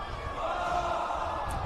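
A stadium crowd of Australian rules football supporters at a state league preliminary final jeers a kicker lining up a shot, producing a steady, dense roar of massed voices that swells slightly midway and holds at a loud, even level.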